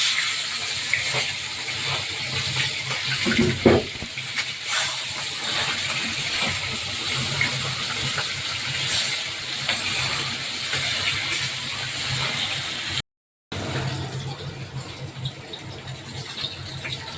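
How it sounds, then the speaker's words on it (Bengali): Steady loud hiss of poli fish frying in hot oil, continuous throughout with a brief dropout near the end, no talking. "তেলটা গরম হয়ে গেছে, এবার দিয়ে দেবো পলি মাছ।"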